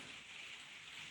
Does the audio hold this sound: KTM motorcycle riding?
no